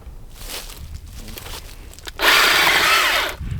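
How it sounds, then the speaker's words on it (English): A small battery-powered chainsaw bursts into a loud, steady buzzing whine for about a second, after quieter rustling and handling noises nearby. "So he's using my new little battery powered chainsaw."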